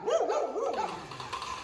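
Dogs in a mountain kennel area on a rainy day give a short burst of yelping, whining barks, close and moderately loud, fading into background noise after under a second.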